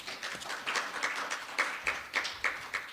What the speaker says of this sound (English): A big hand of applause to our...